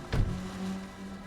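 A car in Cyberpunk 2077 idles and creeps along while being parallel parked, with a short thump near the start and then a steady low engine hum.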